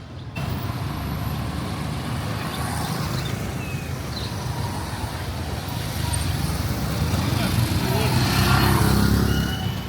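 Street traffic in the small town of Bukoba, Tanzania: a dense, continuous roar of passing cars, trucks and motorcycles that swells louder toward the end.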